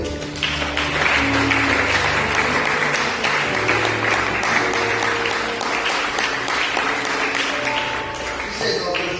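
A church congregation at a worship service applauds loudly and steadily, dense clapping that carries on for several seconds amid crowd noise.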